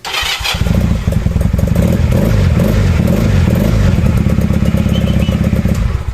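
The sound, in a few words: motorcycle engine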